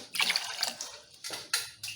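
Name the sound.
quarter glass of water being poured into a pot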